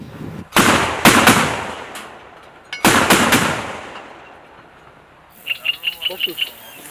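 Heavy weapon fire from a BTR-4 Bucephalus armored personnel carrier in short bursts, loud and close, with a long echoing rumble after each; a rapid string of quieter sharp pops follows.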